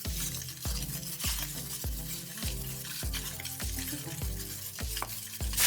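A NY striploin steak sears in a hot pan for a thyme-and-garlic steak dinner. A steady, loud sizzle runs throughout, broken by regular scrapes and clinks of a utensil against the pan. No one speaks.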